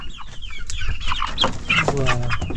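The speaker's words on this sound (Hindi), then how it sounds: "और इस तरफ भी आपका लोकल मुर्गी" Local village chickens in an Angami Naga village in Jakhama cluck and call close by, a few short bursts followed by a longer drawn-out cackle, clear against quiet surroundings.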